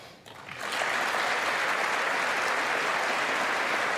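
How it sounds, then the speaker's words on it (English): Chamber audience at the 2019 State of the Union swells into sustained applause after a brief quieter start, a dense, even roar of many hands clapping that holds steady and loud to the end. "we have Pelosi's clapping"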